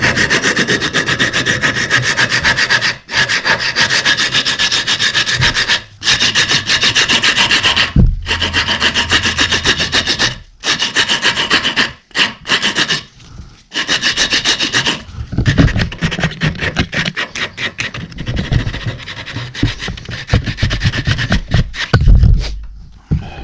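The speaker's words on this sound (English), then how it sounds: "We're going to do some sanding on it next." Sanding a wooden musky crankbait lure, with continuous close abrasive rubbing in long strokes, loud and gritty, broken by a few short pauses and quicker scrubbing passes toward the end.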